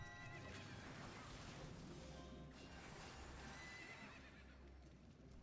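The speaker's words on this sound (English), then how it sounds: "Grab the horse." A horse whinnies loudly in the video game Final Fantasy XIV, its neigh rising and falling over clip-clopping hooves and game background sound, with no talk over it.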